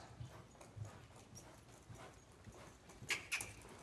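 Slow loping hoofbeats from a horse under saddle, a soft rhythmic thud of hooves fairly close, with a couple of brighter sharp clicks near the end and no talking.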